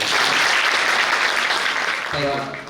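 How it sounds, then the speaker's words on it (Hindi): An audience at a cultural program inauguration at Vishwa Parivartan Bhavan, Amravati, claps in a dense, steady burst for about two seconds before a voice resumes over the fading applause. "जोरदार ताली एक बार"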